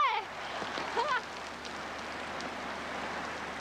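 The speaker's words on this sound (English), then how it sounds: "It's raining." Steady rain falls at night as a constant broadband hiss, with brief faint voice-like sounds near the start and no clear speech afterward.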